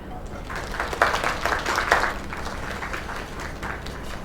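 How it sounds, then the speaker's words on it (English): Applause from a small crowd at a celebration in a bar, steady clapping lasting a few seconds with a couple of louder swells and faint voices mixed in. "Another round of applause."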